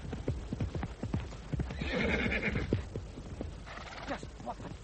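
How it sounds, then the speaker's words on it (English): A horse neighs loudly while hooves clip-clop in a steady rapid rhythm on a hard surface, a radio drama sound effect heard close up with voices briefly underneath. "Rein in that horse!"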